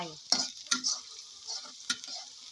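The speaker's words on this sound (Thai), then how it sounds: "ใส่น้ำมันลงไปเลยค่ะ ใส่กระเทียมนะคะผัดลงไป" Garlic stir-fried in hot oil in a pan, a bright sizzle broken by several sharp scraping strokes of a spatula against the pan, close up with no voices.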